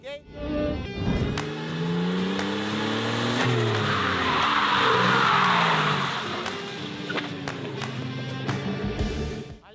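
A car accelerates hard in third gear and drifts around a cone on a practice course. The engine revs rise and fall while the tires squeal in a long, loud skid, and a voice speaks faintly in the background.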